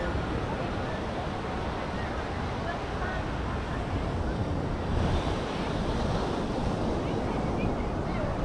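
Surf and wind at Kuta Beach in Bali, a steady broadband wash of breaking waves with wind buffeting the microphone, loud and continuous throughout with no clear pauses.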